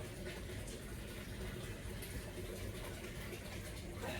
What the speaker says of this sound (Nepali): पानी परेको छ बाहिर